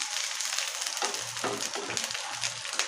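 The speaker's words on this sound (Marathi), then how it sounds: "कांदाही आपला मस्तपैकी फ्राय व्हायला लागलेला आहे तर याच्यात आता आपल्याला लसूण घालायचा" Onion and garlic fry in a pan for a soyabean curry, giving a steady, close hiss of sizzling oil with faint stirring.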